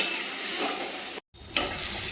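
Saag greens fry in a pan with a steady soft sizzle and hiss, broken by a brief gap and then a sharper crackle as the frying resumes.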